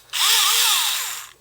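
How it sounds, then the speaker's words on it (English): A Tamiya handy drill in a hobby room spins up with a bright, steady motor whine whose pitch wavers slightly, running loud and close for just over a second before winding down. "Tamiya handy drill, which is really a lifesaver"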